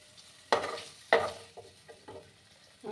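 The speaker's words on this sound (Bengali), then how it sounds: "এদিকে আমার পনিরগুলো ভাজা হতে থাক" Paneer cubes frying in oil make a soft sizzle under several sharp spatula stirs and scrapes against the pan, each a quick burst fading back to a quiet crackle.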